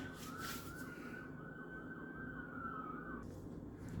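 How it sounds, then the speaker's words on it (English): A wailing emergency vehicle siren sounds outside, a single sustained rising-and-falling tone over a steady background rumble, fairly distant and cutting off near the end. "The sirens. I don't know if you're going to hear that or not."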